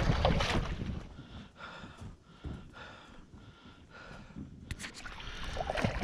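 A kayak is paddled across a back-country lake, with soft repeated paddle strokes and water swishes between bursts of wind buffeting the microphone, fairly faint and close.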